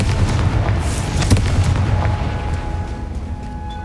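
A Confringo fire spell exploding in the game Hogwarts Legacy, a deep rumbling boom with sharp crackling bursts early on that rolls and fades over a few seconds.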